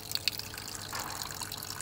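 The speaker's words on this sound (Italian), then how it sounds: "Quindi rimettete adesso l'acqua fredda pulita." Clean cold water poured into a pot while cooking a risotto with scampi and candied lemon, a soft steady splashing and trickle, fairly quiet and continuous.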